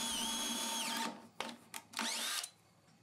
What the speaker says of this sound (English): Then I can drill through on all four corners.